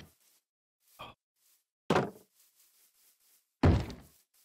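A zombie in modded Minecraft knocks on a door, giving a few separate hollow thuds spaced about a second apart, the later ones louder and heavier, with quiet gaps between.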